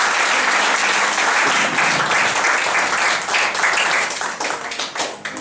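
A church congregation applauding and cheering the Lord, loud sustained clapping filling the room, thinning and becoming more scattered toward the end.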